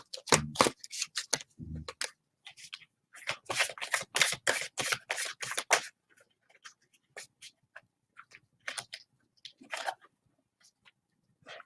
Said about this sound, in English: I need to shuffle this to get the old energy off Divine Film.